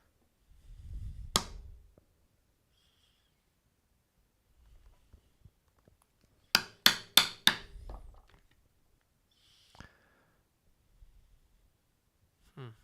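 A hammer strikes a leather hole punch while leather can slips are being made. Sharp, isolated knocks in near silence include a rapid run of about five blows, then a few single hits.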